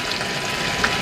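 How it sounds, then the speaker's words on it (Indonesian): Shallots and garlic sizzle in a pan, a steady close hiss of frying that runs unbroken for about a second. "Kita masukkan bawang merah, bawang putih biar dia harum ya. Iya, ditumis dulu bentaran."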